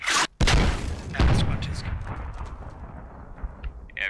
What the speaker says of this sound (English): the tank is just shooting this compound